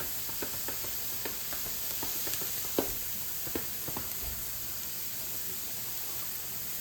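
Celery sweating in a pan for chili gives a steady, soft frying hiss, broken by faint scattered pops and light clicks of stirring, with no voices.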